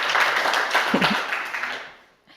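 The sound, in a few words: audience applause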